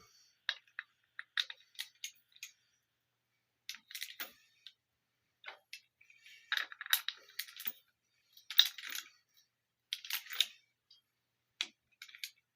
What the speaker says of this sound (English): Now, let's see if we can torque them down a bit.